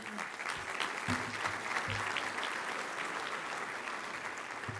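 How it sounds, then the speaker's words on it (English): An audience at a luncheon applauds in a sustained, even wash of clapping that carries for several seconds at moderate volume, with a few faint voices mixed in. "Let's give another round of applause to Nick."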